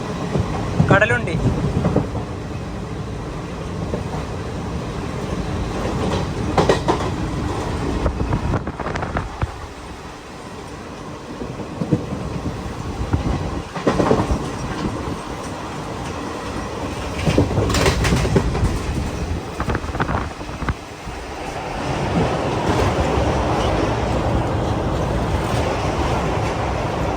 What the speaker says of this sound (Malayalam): തിരൂർ റെയിൽവേ സ്റ്റേഷനിലേക്ക് ഇതാ നമ്മുടെ ട്രെയിൻ എത്തിക്കൊണ്ടിരിക്കുകയാണ്.